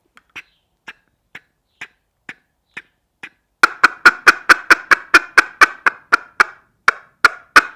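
Soft single ticks from a duck call used as a feeder call at a slow steady pace, then a louder, faster run of sharp clucking ticks, close up with no voices.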